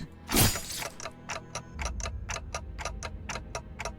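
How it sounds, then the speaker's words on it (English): Steady clock-like ticking from the video game Limbus Company, a regular series of crisp ticks roughly every quarter second, preceded by a brief louder crash or burst at the start, with a low rumble underneath and no talk. "Ticking is all I can hear."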